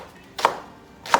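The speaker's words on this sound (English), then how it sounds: "So after I've cleaned the leek, I can start chopping it" A knife chops through a leek into chunks on a cutting board, giving two crisp, close thuds about seven-tenths of a second apart in an otherwise quiet kitchen.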